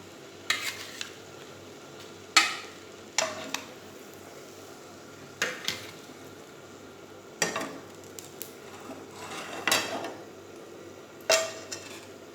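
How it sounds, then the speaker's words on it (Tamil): Eggs frying in a pan for a Tamil egg thokku dish, a quiet steady sizzle broken by repeated sharp clinks and scrapes of a utensil against the pan. "இந்த மாதிரி சரியான அளவுக்கு பொரிச்சு எடுங்க முட்டையை."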